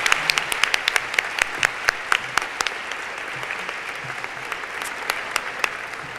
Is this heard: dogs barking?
no